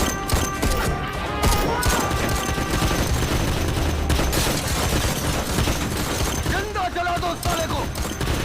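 Dense, chaotic gunfire as gang members shoot in a film scene, a sustained fusillade of overlapping shots and crashes under music and effects.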